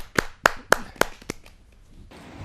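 Welcome applause for poet Dr. Vibha Prakash at a Hindi poetry gathering: five crisp, evenly spaced claps, then quiet.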